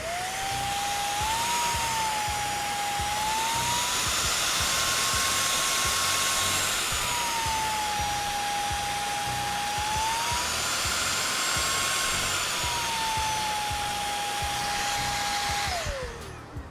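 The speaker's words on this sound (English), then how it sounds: "you can control the pressure of the vacuum cleaner by using this toggle over here" Vacuum cleaner running steadily for a long stretch, a loud airy whine whose pitch slowly rises and falls as the suction pressure is adjusted, then winding down at the end.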